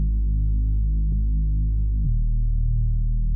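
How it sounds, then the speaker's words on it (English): Big, spacious synth pad in a K-pop production, a sustained, smooth low chord that holds steady and then shifts to a new chord partway through. "I'm just going to add this nice big kind of respace pad"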